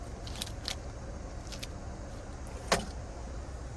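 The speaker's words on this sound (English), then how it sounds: "Finally, here's the key fob." Keys on a 2025 Toyota Tundra Platinum key fob are handled, giving a few faint jingles and one sharper metallic clink, near and quiet over a low steady background.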